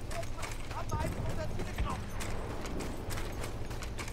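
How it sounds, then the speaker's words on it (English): Horse hooves clip-clopping in the Battlefield 1 video game, a steady busy patter mixed with battle noise and game sounds, with voices talking over it throughout. "I don't want no horse."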